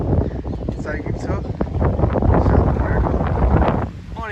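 Strong outdoor wind buffeting the microphone at a village nursery, a loud low rumbling roar rising and falling, with a person talking over it.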